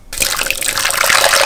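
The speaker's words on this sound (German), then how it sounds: "Ein bisschen warmen Wasser" Warm water runs from a kitchen tap in a steady, close splashing stream that starts abruptly and continues without pause.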